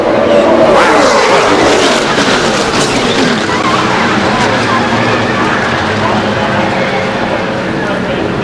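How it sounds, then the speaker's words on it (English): NASCAR Nationwide Series race cars roar past at about 180 mph at Talladega, a loud, sustained rush of engine and tire noise that swells and fades, with a broadcast commentator talking over it. "Right into your living room as these cars come by at 180 miles an hour."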